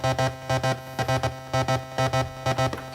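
Three slow oscillators routed through a buffered mixer on a DIY modular synth give a pulsing, rhythmic tone with repeating bursts of roughly two or three beats per second, loud and steady with no talk.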